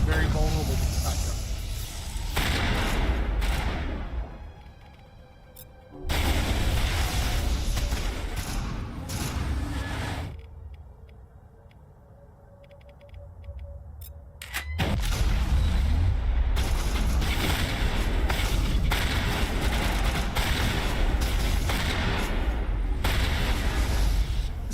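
Shotgun blasts in the sci-fi shooter Mass Effect, heavy booming reports in loud dense bursts separated by brief lulls, with a voice talking over the combat.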